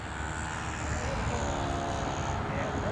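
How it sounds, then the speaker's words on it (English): A model airplane engine, the Indianapolis Shark, drones steadily in flight at an outdoor field, a continuous distant buzz with a high whine that rises and falls slightly as the plane passes. "Jose Modesto is going to put up a flight on the Shark. The Indianapolis Shark"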